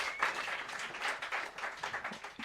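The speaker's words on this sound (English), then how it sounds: "Clap it up for your main eventers" Audience at a rap battle clapping, a faint, steady wash of applause from a crowd heard from a distance.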